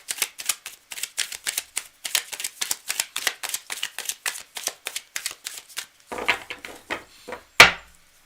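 Tarot cards being shuffled by hand, a quick run of crisp riffling flutters in steady rhythm, close and clear, ending with a sharper tap.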